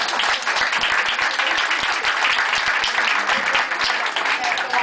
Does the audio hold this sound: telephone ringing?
no